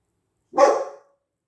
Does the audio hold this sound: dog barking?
yes